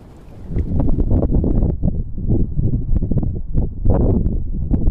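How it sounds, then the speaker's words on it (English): Strong wind gusting against the microphone beside a spring-fed pond where a flag flaps, loud buffeting rumble with uneven bursts throughout. "can see this flag blowing in the wind"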